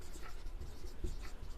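A blue marker writes on a board in short squeaky strokes, scratchy and close, in a quick continuous burst.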